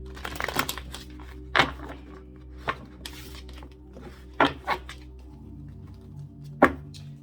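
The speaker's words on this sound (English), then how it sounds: "I have pre-shuffled the tarot, but I will shuffle again." Cards riffle and snap in several short, crisp bursts separated by pauses, close up, over a low steady hum.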